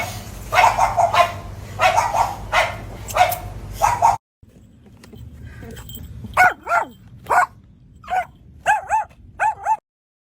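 A dog barks repeatedly while attacking a man, loud close barks in an uneven rhythm, then after a brief cut sharper yips and whining barks in quick bursts, with no talk over them.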